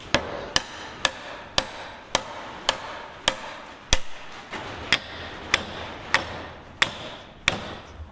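Soft hammer taps strike a square-body truck's steering column, about a dozen sharp, evenly spaced knocks roughly every half second, close and clear with no talking.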